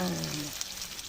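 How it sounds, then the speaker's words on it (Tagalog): Garlic and ginger sautéing in a pan for dinuguan, a short burst of close sizzling that starts under a brief held voice tone and then continues alone as a steady crackle. "Gisa-gisang bawang at luya."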